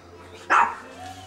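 A miniature pinscher gives a single sharp, close bark over a steady low hum.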